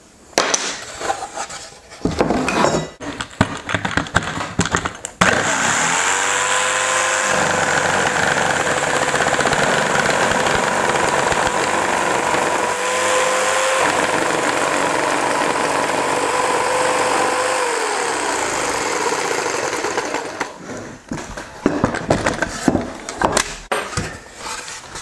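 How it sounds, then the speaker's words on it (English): A saber saw cutting an arc through a board for a garden hoop frame, a loud continuous buzzing motor drone held steadily for about fifteen seconds, framed by clattering handling noises before and after. "we'll just cut this out with the saber saw."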